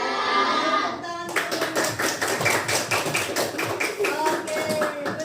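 Children clapping their hands in a classroom, a dense burst of many hands that starts after a brief voice and keeps going steadily, close and lively.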